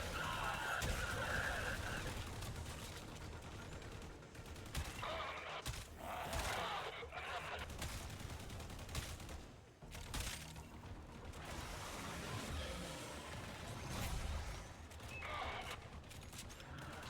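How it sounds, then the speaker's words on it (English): Gunfire in the video game Warframe comes in bursts of rapid shots and thuds over a busy game soundscape, with a voice talking at times. "And we are shooting."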